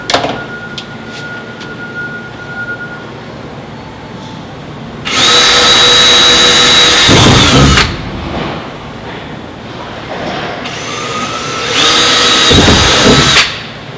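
A power drill runs in two loud, steady bursts of a few seconds each, separated by a quieter stretch of background noise.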